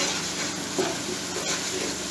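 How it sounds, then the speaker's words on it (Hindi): Spices, salt, chili, turmeric and dried coriander fry in a pan for a beef kofta curry, giving a steady close sizzle and hiss with a faint stir or scrape now and then. "इनको हम हल्का सा भूनेंगे मसाले के साथ।"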